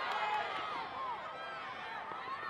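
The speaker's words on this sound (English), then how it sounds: "Crowd wanted a foul." Stadium crowd at a women's college soccer match between TCU and Iowa State, a steady loud roar of many voices rising and wavering in protest over a possible foul, with no clear single voice.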